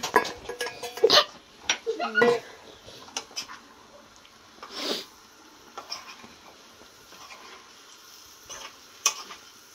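Vegetables and two potatoes go into a hot pan, followed by scattered clinks, scrapes and stirring knocks of a utensil against cookware, plus faint sizzling between louder bursts.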